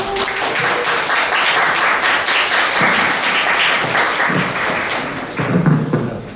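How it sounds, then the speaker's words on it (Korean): Loud audience applause at an indie game conference, dense clapping with some thumps and taps, steady for several seconds and close by. "큰 박수로 부탁드리겠습니다."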